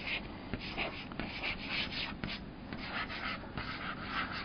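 Pen on paper writing out a sentence by hand, a close, quiet scratching in short strokes and pauses, with no voices.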